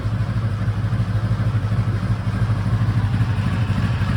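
A cold Honda V65 Sabre VF1100S motorcycle engine idling close by, a steady, even low throb with a faint mechanical clatter and no revving, running just off choke.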